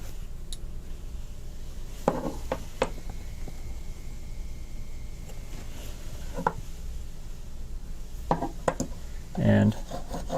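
Curved tip engraving graver heel rubbed against a sharpening surface in a fixture, light scattered rasping strokes and clicks over quiet background, with a brief louder scrape near the end.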